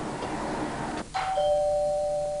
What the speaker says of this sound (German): Ich habe zwar einen Schlüssel, aber neuerdings ist es vielleicht besser, wenn ich klingel.